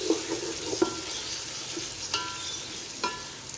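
Browned onions with ginger garlic paste frying in a large pot for chicken biryani, a steady close sizzle with a few scraping stirs and soft clinks of the spoon, no voices.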